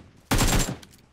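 A short burst of rapid automatic gunfire in the mobile battle-royale game PUBG Mobile, loud and close, lasting under half a second before a few fainter trailing shots.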